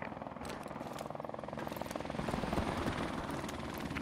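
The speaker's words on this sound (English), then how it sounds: "Friendly helicopter on the way." A helicopter passes overhead in a Call of Duty: Modern Warfare Remastered multiplayer match, its steady rotor chop and turbine whine holding at a moderate level with no talk over it.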